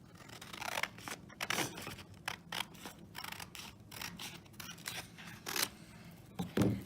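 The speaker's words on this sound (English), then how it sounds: "you're going to cut it directly down the center." Scissors snip through a stapled paper packet in a quiet room, a run of short, crisp cuts at an uneven rhythm, close and fairly loud.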